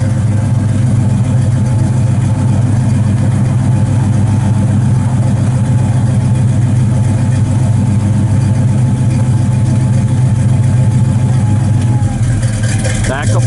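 A 1972 Chevrolet Rally Nova with Flowmaster dual exhaust idling, a steady deep rumble held loud and close for the whole span.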